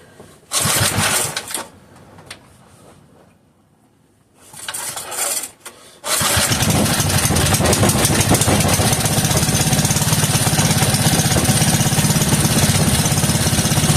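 A 3hp Briggs and Stratton small engine sputters through a couple of short tries, then catches and runs steadily at a loud, even idle close by.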